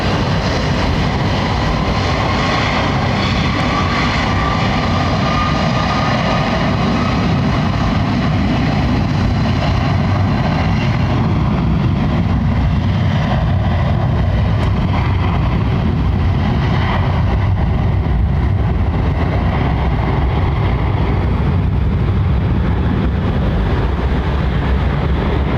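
Jet airliner engines spooling up at Heathrow, a long, loud, continuous roar with a faint rising whine on top and no voices.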